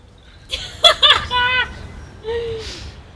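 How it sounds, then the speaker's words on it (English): Short vocal phrases recorded outdoors, dry with no room echo, over faint background hiss, with brief gaps between the bursts. "if you record outside, it'll sound like this."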